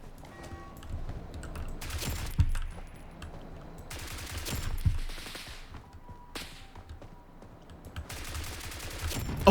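FN FAL rifle fire in the game BRM5, heard as several bursts of rapid gunshots in clusters with quieter gaps between them, moderately loud over a low background rumble.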